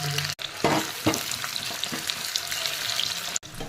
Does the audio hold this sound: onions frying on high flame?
yes